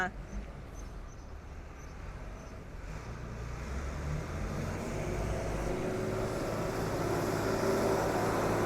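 A twin-axle 7810 truck with a Carraro front axle runs its engine at a distance, giving a steady low rumble that slowly grows louder and fuller over the stretch.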